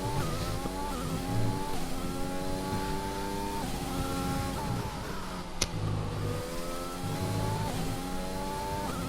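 Racing car engine in the FlatOut video game, revving hard through a lap with rising and falling harmonic pitch as gears shift, loud and continuous with a brief sharp click midway.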